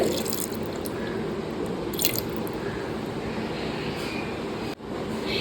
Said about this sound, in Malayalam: ഞാൻ ഇതിലേക്ക് ഒരു 1/4 ഗ്ലാസ് വെള്ളം ഒഴിച്ചു കൊടുക്കുന്നുണ്ട്.